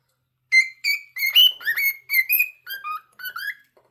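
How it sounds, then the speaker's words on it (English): A pet bird sings alone at close range in a quick series of about ten bright, clear whistled chirps and warbles, with short gaps between them and nothing else in the background. "Now he's singing, Happy Boy."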